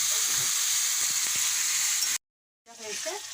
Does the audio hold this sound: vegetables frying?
yes